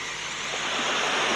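Ocean waves used as a radio drama sound effect, a broad steady wash of surf that swells slightly louder over a short stretch, heard alone.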